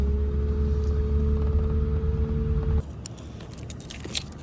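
Keys jangling close by as someone heads out to start a pickup truck in a dirt parking lot, a bright metallic rattle over a low engine rumble that cuts off partway, leaving quieter clinks and shuffles.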